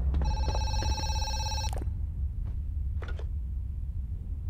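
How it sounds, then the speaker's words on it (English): A telephone rings in the horror zoo game Zoochosis, a bright electronic ring lasting about a second and a half, followed by a few faint clicks over a low steady hum, with no talking. "Well, now we're getting another phone call."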